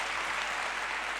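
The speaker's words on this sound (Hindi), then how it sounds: "ताली बजाओ, आगे बढ़ेंगे" Audience at a youth motivational conference in Rajasthan breaks into a brief, dense burst of applause, steady and moderately loud for about a second with no voices standing out.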